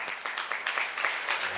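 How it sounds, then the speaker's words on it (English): A short, fairly faint patter of applause comes from an audience at an anniversary gathering of a development organization. "Let's give another round of applause."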